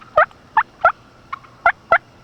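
Wild turkeys gobble at first light, five loud close calls spaced out over about two seconds plus one fainter call, with no talk.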